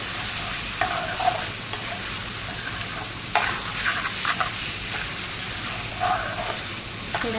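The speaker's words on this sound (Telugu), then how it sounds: "మొత్తాన్ని బాగా ఇలా కలుపుతూ ఫ్రై చేయాలన్నమాట" Spaghetti stirred and fried in a pan gives a steady sizzling hiss, with scattered scraping clicks from the utensil at irregular moments throughout.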